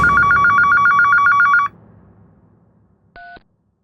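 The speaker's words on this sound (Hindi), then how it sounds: "अचानक फोन बजा।" A telephone rings loudly in a steady repeating trill for over a second, then stops, followed by a short single beep against low background noise.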